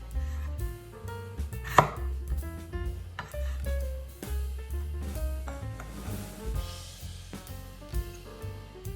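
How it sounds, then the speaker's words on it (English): A knife chops potato into bite-sized pieces on a cutting board, a close series of sharp knocks in an uneven rhythm, with soft background music. "potato, cut into bite-sized pieces"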